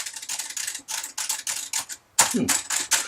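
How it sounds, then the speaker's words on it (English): Clicky mechanical keyboard typing, close and crisp, in quick bursts of sharp clacks separated by short pauses. "They call them clicky keyboards. So you get that click, click, click, click, click"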